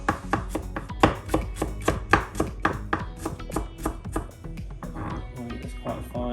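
Rapid, steady knife chopping of ginger on a board, a quick run of sharp close taps that slows and thins out toward the end.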